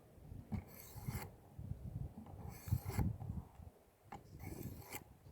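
A Nitro-V steel knife is drawn across a coarse diamond stone on a Work Sharp Precision Adjust fixed-angle sharpener, giving three separate raspy strokes with short pauses between them, close and moderately quiet.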